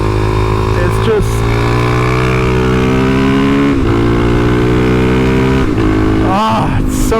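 A Suzuki DRZ400SM motorcycle's single-cylinder engine drones steadily under riding, with several quick revving gear-change dips and a rider talking over the close, continuous engine note.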